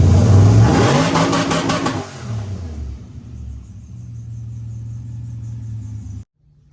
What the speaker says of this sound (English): I had to throw one little rev limiter in there